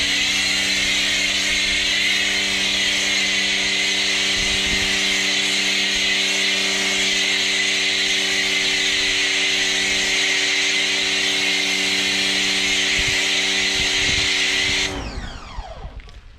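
An Autoglym Polar Blaster snow foam lance on a Titan pressure washer sprays foam onto a van. A loud, continuous motor drone with a hissing spray runs steadily, then cuts off near the end and winds down.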